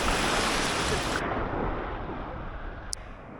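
Ocean waves at a beach in La Ventana, Baja California Sur, a close, loud broadband wash of surf that gradually softens, with wind buffeting the microphone.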